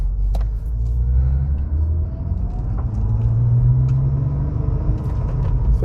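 An Acura TL drives along the road at about 35 mph, giving a continuous low rumble of engine and tyre noise from inside the car, steady and fairly loud, with no talking.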